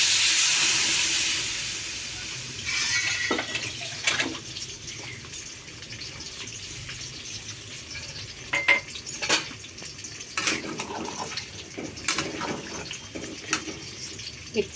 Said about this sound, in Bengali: একটু ঢেকে দেবো আমটা সিদ্ধ হওয়ার জন্য।